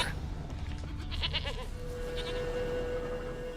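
A stubborn goat bleats in The Witcher 3: Wild Hunt, a wavering, nasal cry heard close and moderately loud over low ambient background, with no talking.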